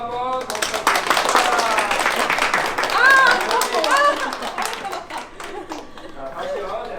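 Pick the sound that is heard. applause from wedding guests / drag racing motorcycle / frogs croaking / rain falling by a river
applause from wedding guests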